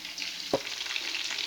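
Steady oily sizzling of frozen fried chicken frying in a pan, close and continuous, with a brief clack of a utensil early on.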